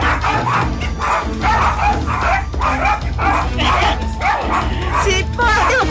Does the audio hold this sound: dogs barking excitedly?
yes